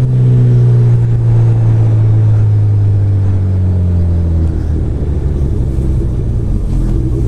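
A motorcycle fitted with a Yoshimura R77 exhaust rumbles deep and loud up close, its low engine tone holding steady, then dropping in pitch as it settles into a lower throbbing idle, with no voices.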